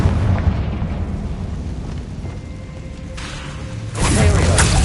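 Confringo fire spell explosions in Hogwarts Legacy, rumbling booms and bursts with a loud blast near the end, heavy game effects throughout.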